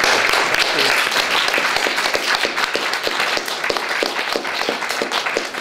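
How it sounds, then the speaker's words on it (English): Loud, dense applause from an audience at a literary festival talk, steady clapping that carries on throughout without letting up. "So just a round of applause for those writers out there"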